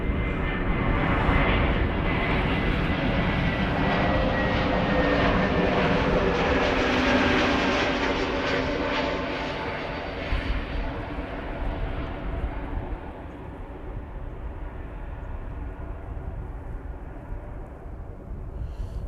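A Transavia airliner arriving from Pisa at Amsterdam Schiphol, its jet engine roar loud and broad at first, then gradually fading and thinning as the aircraft passes, with no talk over it.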